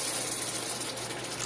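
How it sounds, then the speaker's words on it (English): Water poured steadily from a jug into a pan to boil spicy peanuts, a continuous close gushing, splashing stream with no talk. "pour a little bit of water in there so it don't stick to the bottom of the pan"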